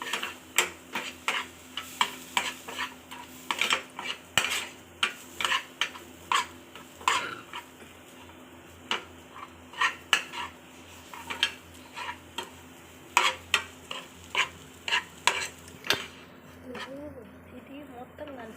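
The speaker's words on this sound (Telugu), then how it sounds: "దోరగా వేగిన తర్వాత పాలు పోసుకొని బాగా కలుపుకోవాలి." A spoon stirs milk into a fried mixture in a cooking pan, giving a steady series of light metallic clinks and scrapes against the pan over a faint low hum.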